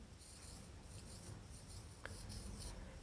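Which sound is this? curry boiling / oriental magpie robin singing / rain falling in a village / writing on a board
writing on a board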